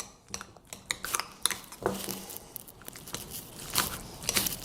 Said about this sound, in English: So I'll mash it almost like I'm making guac.